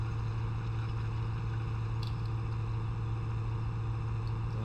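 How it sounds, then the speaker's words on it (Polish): A John Deere tractor engine in Farming Simulator 2013 runs with a steady, loud low drone throughout, with no speech over it. "Jezu, kocham się John Deere, naprawdę. Jaką on ma pracę piękną silnika."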